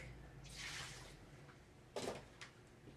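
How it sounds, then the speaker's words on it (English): A metal pot that held boiled water being moved, giving a sloshing, clanking burst near the start and a sharper knock with a short splash about two seconds in, close and fairly quiet over a low hum. "A fucking pot of water that I used to boil for some of the stuff I did have to move"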